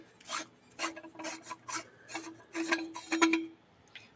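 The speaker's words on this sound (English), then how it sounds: "One more pass with the threading tool just to make sure there's no burrs there" A threading tool cuts thread on a metal whistle part during repair, giving a series of close, dry rasping strokes in an uneven rhythm with short gaps between them.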